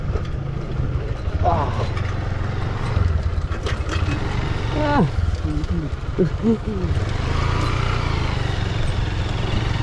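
A motorcycle engine runs steadily along a narrow rural road near Sreemongal, a loud close drone heard under ongoing talk from the rider.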